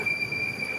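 A Moscow train's wheels give a steady, piercing high squeal against the rails, continuous and fairly loud over a low rumbling rail roar, in a very brief burst with no voices.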